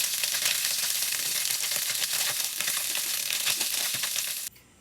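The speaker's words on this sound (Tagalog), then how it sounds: "Ipa-fry natin muna. So, hayaan lang natin na maluto." Pieces of deboned smoked fish frying in a pan, a dense continuous sizzle and crackle, close and steady, stopping abruptly near the end.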